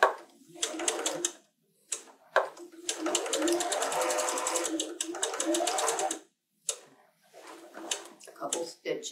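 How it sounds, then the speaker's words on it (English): A sewing machine stitching quilt square pieces for a churn dash block runs in fast rapid bursts, stopping and starting several times, close and clear, with a voice talking in between. "What I'm going to do is a couple more stitches,"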